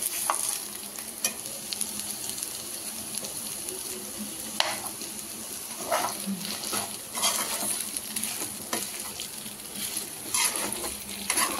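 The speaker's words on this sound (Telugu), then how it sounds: "అరటికాయ బాగా ఫ్రై అయిపోయిందండి. మధ్యలో కలుపుతూ ఉండాలండి" Raw banana slices fry in a pan and are stirred, giving a continuous close sizzle broken by repeated scraping strokes of the spoon, with no voices.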